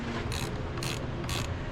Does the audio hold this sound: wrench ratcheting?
yes